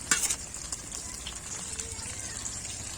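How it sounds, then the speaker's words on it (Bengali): An egg and milk batter snack fries in a pan over medium-low heat, giving a steady soft sizzle with occasional small crackles and a brief clatter at the start. "পুরো মিডিয়াম থেকে লো আঁচে এটা ভেজে নিতে হবে"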